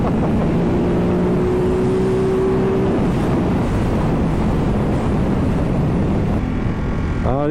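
A Ducati Multistrada 950 motorcycle riding along a small road, steady engine drone mixed with heavy wind buffeting on the helmet microphone, with a rising rev near the end.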